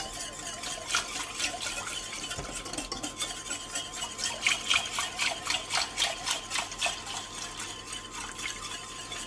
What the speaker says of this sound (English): And then we're going to add in the milk. Continue stirring, continue whisking.